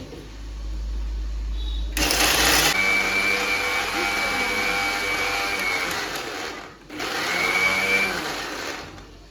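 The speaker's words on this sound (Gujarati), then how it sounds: "મિક્સરમાં દહીં નાખવાનું છે" A kitchen mixer grinder whirs loudly, blending curd with spices, running steadily in two bursts separated by a brief pause, with a rising motor pitch after each start.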